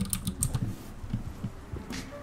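Quick bursts of keystrokes on a computer keyboard, close and fairly quiet, arriving in irregular clusters of taps with short pauses between them.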